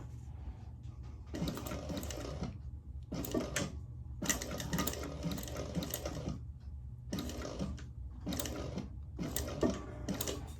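A sewing machine stitches along a garment facing just above a cut line, running in several short bursts of steady mechanical whirring separated by brief pauses, close and clear.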